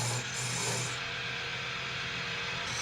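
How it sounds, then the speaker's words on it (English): A steady dry rasping scrape of a gouge held square against spinning timber on a wood lathe while making an Irish spinning wheel, continuous and fairly quiet with no talk. "In scraping, the tool is held at right angles to the timber."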